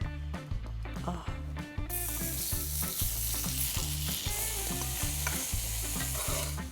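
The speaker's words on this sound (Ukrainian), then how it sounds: "Як нагрілась, викладай бекон." Loud, steady sizzling of bacon frying in a hot pan, with some stirring and rhythmic background music.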